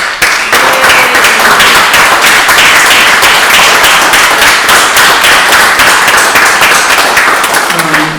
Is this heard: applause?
yes